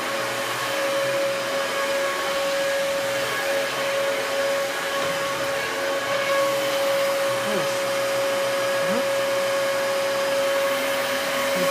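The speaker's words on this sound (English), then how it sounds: "It's my favorite vacuum to use." A Hoover WindTunnel 2 Rewind Pet or Dyson DC33 upright vacuum cleaner runs steadily indoors with a constant high whine and broadband roar, unbroken for the whole stretch, with no talking.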